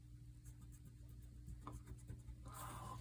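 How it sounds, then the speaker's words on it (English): An eraser rubs pencil grid lines off drawing paper, making faint, quiet, rapid scratchy strokes that grow a little denser and louder toward the end. "Grab my eraser. I'll erase section 1, 2, and"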